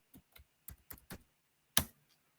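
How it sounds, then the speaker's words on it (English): Keys clatter on a computer keyboard as a password is typed in, a handful of sharp, separate clicks in an uneven rhythm, close and quiet, ending with one heavier keystroke. "I will manually type in the password."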